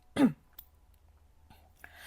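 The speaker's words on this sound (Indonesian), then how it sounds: "aku masih agak batuk" A single short, sharp cough close by, followed by quiet room tone and a couple of faint clicks.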